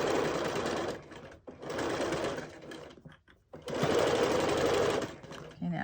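A sewing machine stitches a fabric pencil holder in three steady runs of whirring, separated by brief pauses, close and loud.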